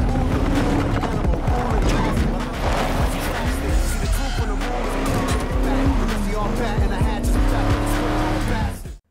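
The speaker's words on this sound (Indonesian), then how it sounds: "Travis terus tancap gas dan menabrak mobil Banner" Cars race through a movie chase scene, engines roaring and tires squealing in long sliding skids, loud and close, with a voice briefly audible over the action.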